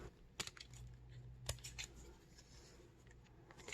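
Scissors snip through handmade serendipity paper, cutting off finger-shaped pieces in a few quiet, separate clicks and rustles over a soft background hum.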